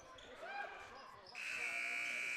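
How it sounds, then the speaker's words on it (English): A basketball buzzer blares loud and sustained at the end of the first half of a high school regional playoff game, entering partway through over gym crowd noise and announcer talk. "Buzzer beater shot there by 10 was no good."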